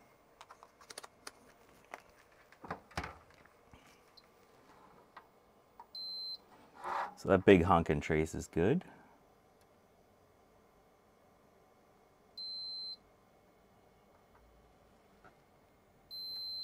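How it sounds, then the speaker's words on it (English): A continuity tester beeps in short, steady tones while probing traces on a DTK PTM-1000 286 motherboard with battery damage. Quiet handling clicks and a brief rustle come between the beeps. "Oops, I left the beep machine on."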